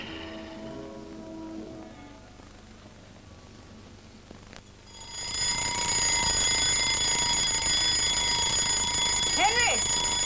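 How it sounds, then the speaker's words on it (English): An alarm clock bursts into loud, continuous ringing about halfway through, cutting into a quieter stretch with faint voices and a low background hum, and rings steadily to the end. "Didn't you hear the alarm?"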